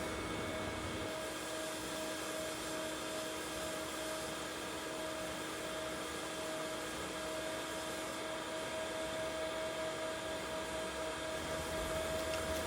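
CNC spindle trimming the outside edge of a fiberglass bulkhead, a steady high-pitched whine with a harsh grinding hiss, continuous and fairly close, with no talking.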